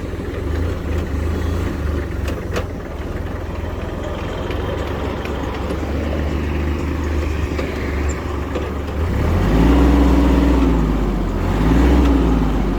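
A Kubota GL19 tractor engine runs steadily close by, then climbs to a louder, higher-revving drone near its 2500 rpm cutoff, holding with a slight surge toward the end.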